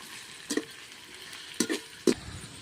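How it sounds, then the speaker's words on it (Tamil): Onion and tomato being stirred in a pan for a kari kulambu, three short scraping stir strokes over a low, steady sizzle, close and fairly quiet with no talk. "நல்லா வதக்கிக்கணும்."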